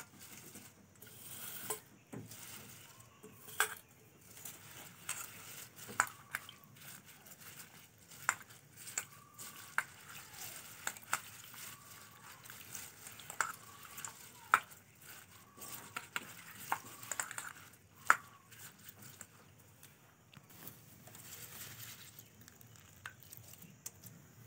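Homegrown rose petals are swished and rinsed in a container of water, giving soft, quiet sloshing with faint patter and a few sharp clicks against the vessel throughout.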